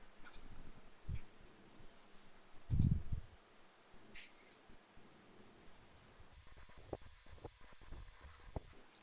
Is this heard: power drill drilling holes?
no